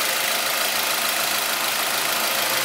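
A Ford Escape with an automatic transmission idles steadily with the hood open, a smooth, even engine hum heard close up under broad hissing noise and with no speech.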